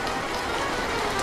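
Rain falls steadily in a dense, close hiss of drops on a surface, uniform and unbroken, with no talking.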